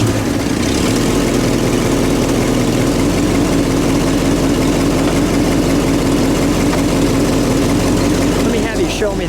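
A 1969 Mercury Cyclone Spoiler with a 351 V8 idles loudly and close, a dense, steady rumble that barely changes throughout, with a faint voice nearly buried beneath it.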